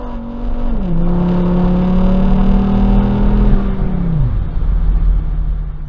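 A modified Volvo 850 with a 2.3 liter turbo 20-valve engine and raised boost pulling hard, a loud steady drone with a gear shift dropping the pitch, then easing off near the end.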